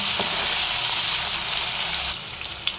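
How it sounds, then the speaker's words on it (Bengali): Potatoes frying lightly with a little salt in a pan, a loud, dense, continuous sizzle that drops slightly toward the end, with a faint clink. "দিয়ে আলুগুলো একটু হালকা ফ্রাই করে নেব"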